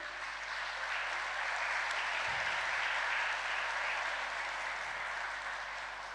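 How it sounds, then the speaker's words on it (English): Sustained applause from a seated corporate offsite audience honoring site field staff, a steady wash of clapping at moderate distance with a couple of faint low thumps. "a big applaud for all the site field people"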